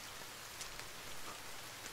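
Rain in the survival video game The Forest, a soft, even hiss of falling drops with faint patters, quiet and steady throughout with no talking.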